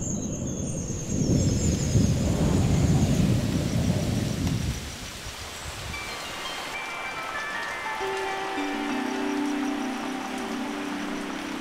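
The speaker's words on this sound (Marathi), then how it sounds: "जोरदार पाऊस सुरू होता." Heavy morning rain with thunder at a mud-walled, tile-roofed farmstay in a forest village: a loud rumbling thunder roll over pouring rain, fading after a few seconds into steady rainfall with faint birdsong.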